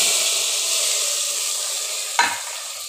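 Dried red chilies and five-spice seeds tempering in hot oil for khichuri, a steady broad sizzle holding throughout with one sharp spattering flare near the end.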